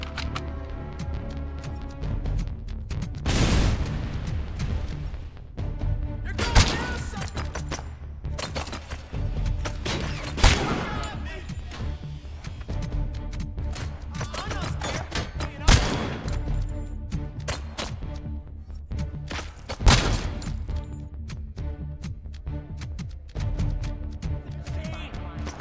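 Video game gunfire cracks out in loud single shots and short rapid bursts at irregular intervals, over a continuous bed of game music and sound, with a voice talking at times.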